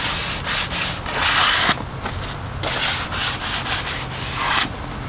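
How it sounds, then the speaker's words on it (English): Rhythmic rasping strokes of sandpaper rubbed back and forth by hand over wooden edges, close and loud, with brief pauses between passes. "I get to use my little elbow grease and actually just do some fine sanding on the edges."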